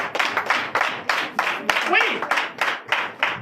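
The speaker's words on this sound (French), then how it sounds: "Donnez l'acclamation à notre Seigneur Jésus" Church congregation at a Sunday worship service in Comè, Benin, clapping in a steady rhythmic beat, loud and close, with a brief voice and a short whistle-like cry partway through.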